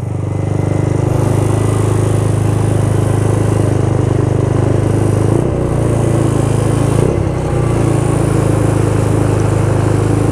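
A Yamaha Mio scooter engine idles during an oil change, holding a steady, close, droning putter for the whole stretch with a couple of brief dips in tone.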